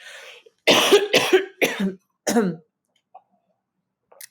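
Four harsh, close coughs in quick succession, followed by a brief pause and a couple of faint throat sounds.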